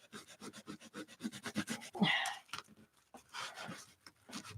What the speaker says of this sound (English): Let's rub it more.